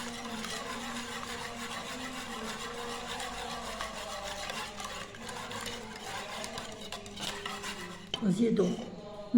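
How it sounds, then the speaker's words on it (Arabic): Two eggs are mixed in a bowl with continuous soft stirring and light clinks of utensil against the bowl, close and quiet, with a louder scrape near the end. "نخلطوهم مزيان."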